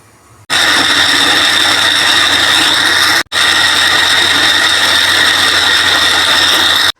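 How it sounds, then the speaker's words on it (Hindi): An electric grinder grinds small pieces of baked roti in two loud, steady whirring bursts, split by a short pause, alone with no speech. "इसके बाद इनको ग्राइंडर में पीस लेंगे"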